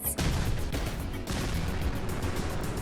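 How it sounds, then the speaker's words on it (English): Dense, continuous rumbling blasts and crashing booms from the video game Fallout 4 pile up without pause, with a brief dip partway through, like a barrage of explosions. "All these explosions!"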